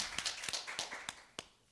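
A panel audience claps after a speaker's remarks, a quick and fairly quiet burst of hands from a modest crowd that thins to a few scattered claps at the end.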